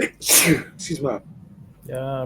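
A single sharp sneeze bursts out close by, followed by a brief apology and other talk.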